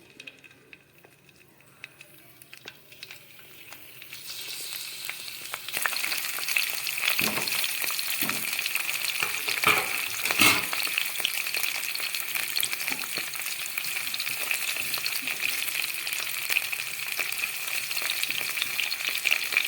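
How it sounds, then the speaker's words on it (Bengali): Cauliflower pieces hit hot Fortune soybean oil after a quiet start, then fry in a loud, continuous sizzle with sharp crackles and pops that stays up close to the end. "ফুলকপিটা ভাজা হচ্ছে"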